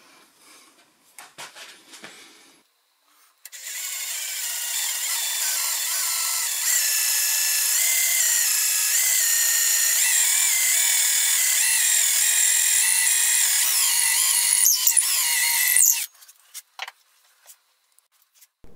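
Cordless drill boring an 11.5 mm cross hole through ginkgo wood, starting after a few clicks and handling noises, then a loud, steady high whine that rises in pitch midway and stops abruptly, followed by light knocks.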